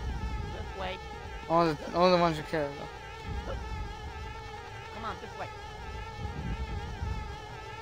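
Buzzing insects from the bees in the video game Conker's Bad Fur Day, a steady droning hum underneath a voice and game sound effects.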